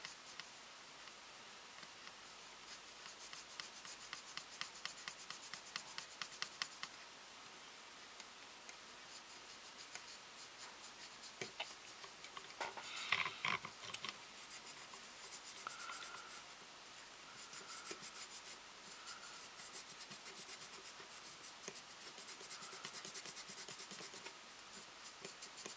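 Quiet, steady rubbing and faint squeaky scratching as clear plastic parts of a Hasegawa P-38 Lightning scale model are polished by hand, with small ticks and a brief louder rub midway.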